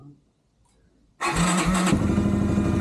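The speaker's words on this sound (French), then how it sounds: "le quad il a démarré" A Kymco 250 KXR quad's engine cranks and fires after a quiet pause, then settles into a steady, loud, close idle.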